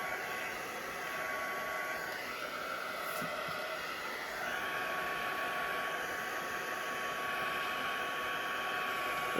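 A heat tool or dryer blows a steady, loud whooshing roar while drying Wink of Stella glitter on a handmade card, running continuously with a slight rise in intensity partway through.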